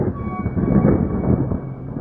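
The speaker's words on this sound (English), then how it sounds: "She woke up by the sound of thunder." Thunder rolls as a low, muffled rumble lasting about two seconds, loud and close with no other sounds over it.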